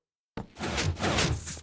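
A door in Minecraft opens after a short silence, giving a brief full-bodied wooden creak and swish that lasts about a second, close and alone.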